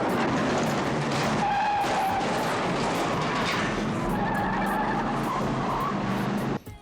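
A car spins around and skids in a dead-end alley during a chase scene from the old detective show The Rockford Files, with loud, sustained tire squeal and engine roar throughout that cuts off abruptly at the end.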